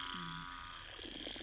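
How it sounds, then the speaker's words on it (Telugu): Frogs croak near a small water pit at night, a brief faint burst of low croaks over steady insect-like background hiss. "కప్పల సౌండ్ వినండి"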